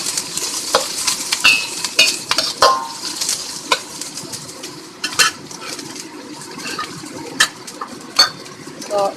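Onions frying in a pan for Ilocano igado, a steady sizzle with frequent sharp scrapes and clinks of a utensil stirring against the pan, close and fairly loud.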